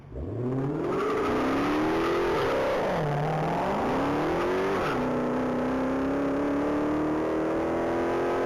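A silver 2023 Dodge Charger SRT Hellcat on a mile top-speed run accelerates hard and loud, its engine note climbing through gear changes with brief dips before holding a high, steady roar, with no voices.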